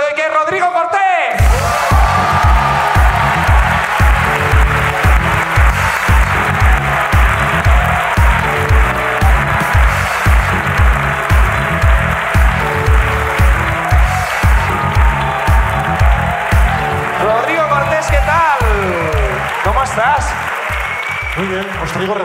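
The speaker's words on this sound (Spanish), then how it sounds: "un fuerte aplauso para nuestro invitado de hoy, que es Rodrigo Cortés." A studio audience gives sustained applause for a guest on a comedy podcast, with dense, loud clapping and rhythmic beats, while voices and whoops run underneath.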